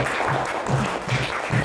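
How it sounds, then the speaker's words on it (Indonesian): A brief burst of group clapping in a classroom lesson on animal life cycles, fairly soft and steady, with faint voice-like tones mixed into the clapping. "tepuk tangan buat kita semua"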